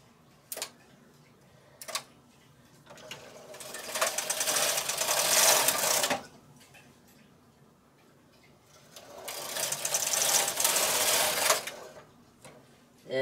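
A knitting machine works a mock moss honeycomb stitch, its carriage swept across in two long whirring, clattering passes separated by quiet pauses with a few light clicks, close and clear.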